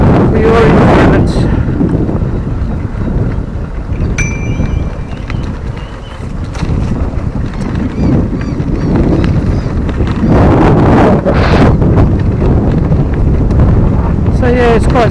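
Steady wind buffets the microphone on a bike ride along the Little Para River Trail, a loud rumbling roar that swells and eases, with someone talking over it.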